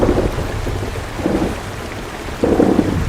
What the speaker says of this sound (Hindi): तेज बारिश के कारण जंगल में बाढ़ आ गई।